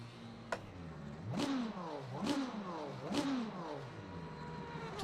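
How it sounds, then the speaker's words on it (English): A hypercar engine in Le Mans Ultimate at Spa revs up three times in quick succession, each rev rising in a sharp whine and falling back, with a fairly close and moderately loud steady mechanical hum underneath. "Does sound good, this car."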